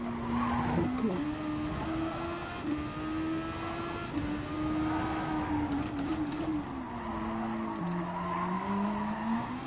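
Race cars at FIA Nations Day howl past in a steady, loud engine drone with rising and falling pitch as they jostle for position, continuous throughout with the roar never letting up.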